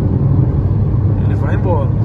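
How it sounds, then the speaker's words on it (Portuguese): A 2021 Fiat Argo Drive with a 1.0 engine holds a steady, loud engine roar close by on the road, with a brief rising whine near the end, under a voice. "Ó, ele enchendo o motor dele, ele vai embora."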